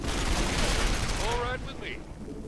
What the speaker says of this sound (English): Pulse grenade.